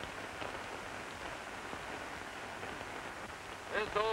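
Rain falls on a surface in a 1934 rural farm film, a steady hissing patter with a voice speaking briefly near the end.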